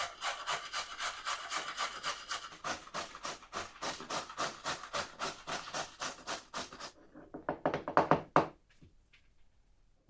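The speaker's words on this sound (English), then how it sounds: "then we just grate it very rough" A carrot grated coarsely by hand, with a rapid run of rhythmic rasping strokes that quicken and then stop with a few knocks, alone and fairly close.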